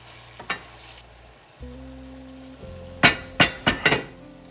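Jalapeños and tomato slices go into a pan where fish is already frying: a quiet sizzle and light clinks, then a hum, followed by four loud, rapid scraping stirs near the end, no voices.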